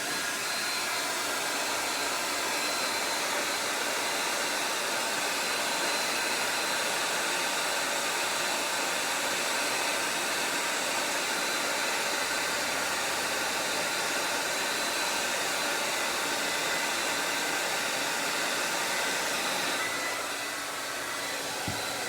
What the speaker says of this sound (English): I'm gonna blow dry that just a wee bit.